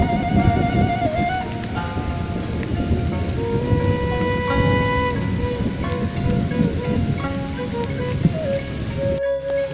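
Steady rain falls in a remote hillside village, dense and continuous hiss of drops on surfaces throughout, with faint tonal sounds drifting above and a brief rumble near the end.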